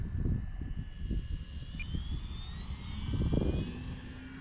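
An RC trainer-style bush plane without flaps makes a touch and go on a runway, its engine droning steadily with a faint high whine across the pass, swelling a little as it comes near.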